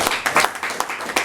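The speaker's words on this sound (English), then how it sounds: "One more round of applause for our two speakers." Small audience at a Kubernetes tech meetup gives a brief round of applause for two speakers, a close, uneven patter of a few people clapping.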